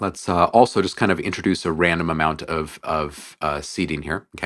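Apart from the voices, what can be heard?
No everyday noise stands out behind the speech.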